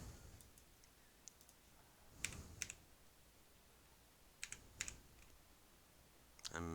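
Someone types on a computer keyboard in short, scattered bursts of faint clicks, a few quick keystrokes at a time separated by quiet pauses, with no talking.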